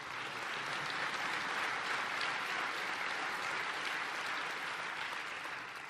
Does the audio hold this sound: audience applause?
yes